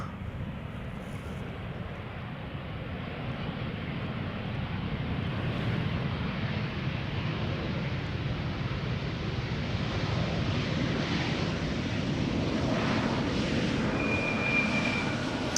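A KLM airliner arriving from Bergen at Schiphol Airport makes a steady rumbling jet roar that builds slightly and holds, with some wind buffeting the microphone and no voices.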